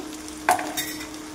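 Broad beans and tomato curry frying and being stirred in a pan, with a soft steady sizzle and a couple of brief scraping stir strokes, close and alone.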